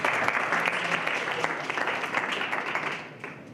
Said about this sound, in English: Can we please welcome and give her a round of applause?